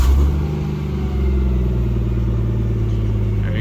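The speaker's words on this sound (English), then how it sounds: "Go ahead and start the car for you guys." A 1JZ single-turbo engine swapped into a Mazda Miata runs with a deep, steady, throbbing rumble, loud and close, holding even throughout with no voices over it.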